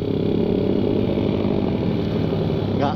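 A Suzuki Satria FU motorcycle engine drones steadily and fairly loud, a continuous buzzing hum with a brief rising whine near the end.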